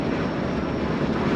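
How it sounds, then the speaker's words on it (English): A steady, loud, broadband roar from the engine and exhaust brake of a 2008 Monaco Diplomat 36PDQ Class A diesel pusher motorhome while slowing on the road, continuous and unchanging with no talking. "Exhaust brake works."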